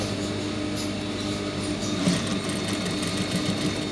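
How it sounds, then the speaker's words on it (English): A sewing machine runs steadily and close by, top stitching piping onto a senator neck, its fast motor hum continuous and even for the full stretch without pause. "I'm going to be top stitching on top of it."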